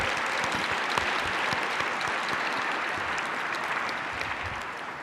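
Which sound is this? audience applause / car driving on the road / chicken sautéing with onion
audience applause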